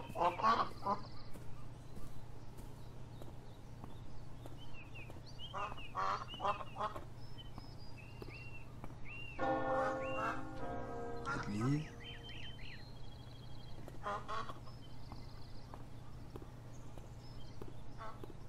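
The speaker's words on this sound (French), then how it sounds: "Canard." Ducks in the video game Beyond Eyes, a few honking quacks that come in scattered bursts over a quiet ambient background, with a brief musical chime partway through.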